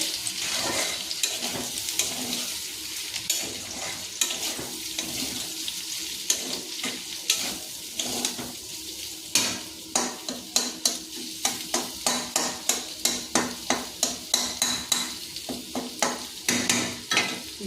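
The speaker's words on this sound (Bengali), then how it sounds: "ফুলকপি আলু ভাজা হচ্ছে" Cauliflower and potato frying in a pan, with a steady sizzle under repeated sharp scraping and stirring strokes that grow more rhythmic toward the end; no one speaks.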